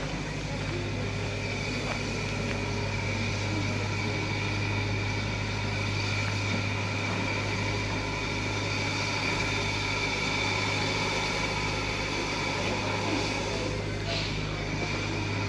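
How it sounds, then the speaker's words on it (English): A train engine on the Wilderness Railway in Tasmania, a constant low mechanical drone with a strong steady hum that continues unbroken and fairly distant, with faint voices. "It's a little engine that could, chugging away up there"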